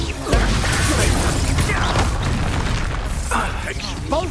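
Spell blasts from the video game Hogwarts Legacy hit in quick succession: heavy booms, crashes and bursts stack into one continuous loud barrage, with a voice faintly present beneath.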